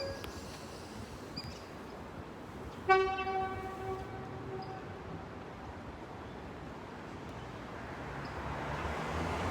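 A train horn sounds once, fairly faint and distant, fading out over a low steady rumble of rail and city noise at Roma Street railway station, Brisbane.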